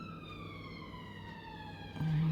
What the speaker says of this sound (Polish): jakieś karetki jeżdżą.